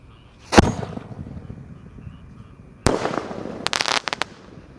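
Jumbo-size blue Bima Sakti firework going off outdoors, with a sharp bang, a lull of hissing, then another loud blast followed by a quick rattle of crackling pops.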